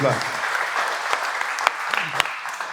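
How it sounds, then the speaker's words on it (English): A small audience at a portfolio critique night in Dubai claps for a design presenter, a brief, steady patter with a few sharper individual claps, and a voice heard briefly at the start. "Big round of applause, Islam."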